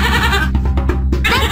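Goat bleating in a short toy farm animal sound sequence, a loud wavering bleat broken by brief pauses and then resuming, with no talk over it.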